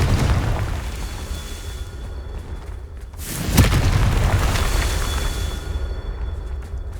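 A Confringo blasting spell explodes in Hogwarts Legacy, a single loud burst with a deep boom that rises and lingers over a low ambient rumble.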